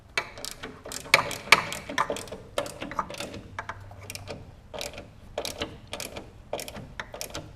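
A 1/4-inch drive ratchet snugs a bolt on a Porsche 944 during an LS swap, giving close, sharp clicking bursts in uneven runs with brief pauses and some faint metallic clatter.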